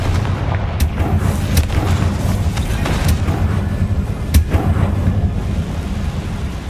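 The Confringo explosive spell blasting in the Hogwarts Legacy video game: loud, booming detonations with heavy rumbling impacts, several strikes in a row over a continuous roaring backdrop.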